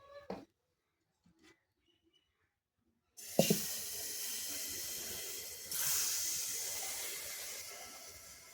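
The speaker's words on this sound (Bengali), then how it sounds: "চলো বন্ধুরা পিঠেগুলো ভেজে নিই" Pitha cakes frying in hot oil, a steady broad hiss that starts abruptly after near silence and swells partway through, close and alone with no talk.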